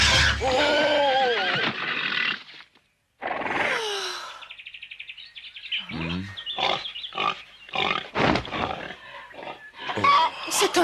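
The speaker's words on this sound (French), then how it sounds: "C'est un de nos cochons." A cartoon pig squeals in short bursts amid busy animated-film sound effects and spoken dialogue, with high-pitched squeals standing out loudly over the mix.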